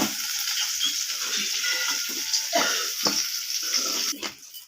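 Potato pieces with turmeric fry in oil while being stirred, a soft continuous sizzle broken by scraping and clinking stirring strokes, fading near the end.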